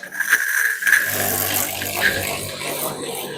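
A Vitals Master AM 7.8-195 high-pressure washer, rated near 200 bar, blasts water from its nozzle in a loud steady hissing spray that begins after a short pause and continues alone up close.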